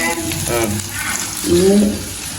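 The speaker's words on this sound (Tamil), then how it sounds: "நல்லா பொரியுது பொரிக்கிறது நாங்கள் வெங்காயத்தையும் போடுவோம்" Okra frying in oil before onions go in, a soft sizzle with a gentle hiss under a voice that speaks over most of the stretch.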